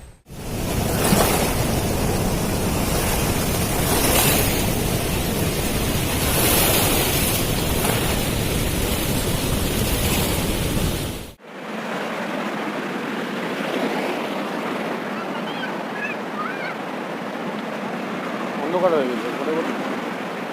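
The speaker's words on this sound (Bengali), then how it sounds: "জল ছেড়েছে এখানে, 12 মাসই জলটা ছাড়াই থাকে" Water released from Maithon Dam rushes below, a steady broadband roar that is loud at first, then cuts abruptly to a quieter, more distant flow for the rest.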